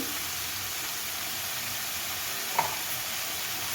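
Ridge gourd sautéing in a pan gives a steady, even sizzle and hiss throughout, with a single faint tap near the end and no talking.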